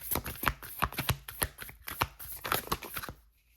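Oracle cards are shuffled by hand in a rapid run of crisp riffling slaps and flicks, close and fairly quiet, ending as a card is drawn and everything goes still.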